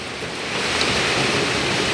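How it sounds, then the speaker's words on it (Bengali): Dense, steady heavy rain with strong wind fills the air at night, a broad continuous roar that swells slightly partway through, with no voices. "এখন দেখতেছি প্রচুর আকারে বৃষ্টি হচ্ছে দেখতে পাচ্ছেন কি আকারে বৃষ্টি তার সাথে আবার প্রচণ্ড ভয়ঙ্কর বাতাস"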